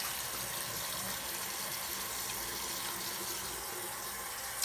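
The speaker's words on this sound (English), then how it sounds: "Now I left the water running because I want it to get hot." Tap water runs into a bathroom sink, left on to warm up, making a steady soft hiss and splash that stays even and fairly quiet for a few seconds.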